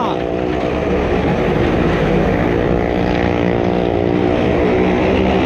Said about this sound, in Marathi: मौत का कुवा चालू झालेला आहे. कार आणि बाईक दोन्ही पण जबरदस्त.